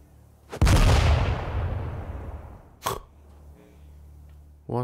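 A grenade blast in the video game ATOM RPG, one heavy booming explosion rolling off over a couple of seconds, followed by a sharp crack and another short thump near the end.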